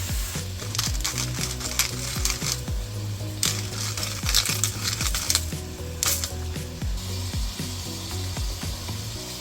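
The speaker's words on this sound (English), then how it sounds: "I'm also gonna mince 2 raw garlic cloves in here," A knife chops raw garlic cloves on a cutting board in a series of quick, close taps and scrapes, coming in bursts with short pauses and a slight crunch.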